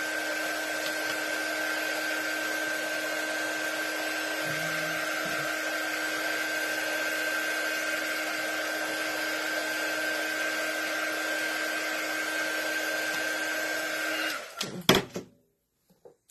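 Hair dryer blowing on a freshly painted decor surface, a loud steady whine and rush of air running continuously for about fourteen seconds before switching off with a short clatter.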